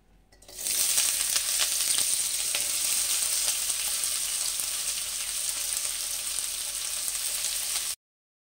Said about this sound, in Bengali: ওই তেলের মধ্যেই পেঁয়াজগুলোকে আমি দিয়ে দিচ্ছি।